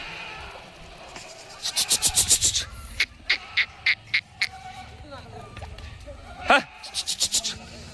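At a goat market in Chandwad, Nashik, goats bleat in quick repeated bursts, some loud and close, with a single sharper cry partway through over a background of crowd murmur and someone talking.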